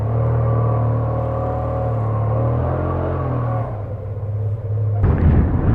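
A Yamaha T-Max 530 maxi-scooter engine runs with a steady low rumble and hum, then shifts to a rougher, rising revving burst near the end as the test ride begins.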